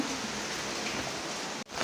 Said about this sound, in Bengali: বাইরে কি যে প্রচণ্ড বৃষ্টি